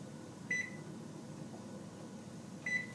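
A kitchen oven timer beeps twice, two short, clear electronic tones about two seconds apart over a faint steady hum of the appliance while crab quiche bakes.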